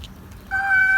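A cat chasing a female cat gives a single drawn-out, high tonal meow that starts halfway through and holds steady, fairly close, against a quiet background.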